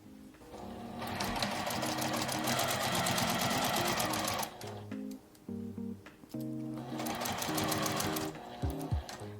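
A domestic sewing machine stitches a zippered L-shaped tablet case in two long, steady bursts of rapid, close mechanical clatter, separated by a stretch of slower, stop-start hand-cranked stitching over the stiff zipper area.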